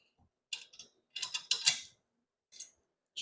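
A socket wrench ratcheting to tighten bolts on a Landzie manual core aerator gives several short bursts of quick metallic clicks, close and fairly quiet, separated by pauses.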